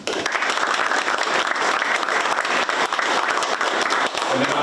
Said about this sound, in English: we can hold the applause